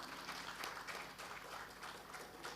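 Soft applause from the audience at a Bharatanatyam arangetram, greeting the guru on nattuvangam and the accompanying orchestra; faint, even clapping heard from a distance that continues for a couple of seconds.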